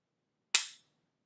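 A single sharp, bright click from the trigger of a Springfield XDm .45 pistol, close and isolated, decaying quickly into silence.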